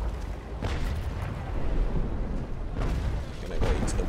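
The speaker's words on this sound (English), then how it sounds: "We're about to receive another broadside, but we're almost reloaded ourselves." Cannon broadside fire during a Naval Action sailing-ship battle, a few heavy booming shots rolling one after another over continuous loud rumbling, with talk mixed in.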